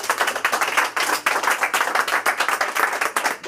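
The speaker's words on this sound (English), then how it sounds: "Give yourselves a massive round of applause." Audience claps in a room, a brisk, continuous burst of many hands striking together, fairly loud and close, with no voices over it.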